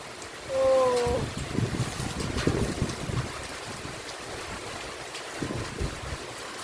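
Heavy rain pouring down on trees outdoors, a dense steady rushing patter with wind buffeting the microphone and a brief tonal sound near the start.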